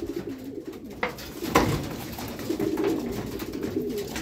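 Racing pigeons cooing in a males' loft during a derby, a steady murmur of low coos repeating close by over a busy background with a sharp knock partway through.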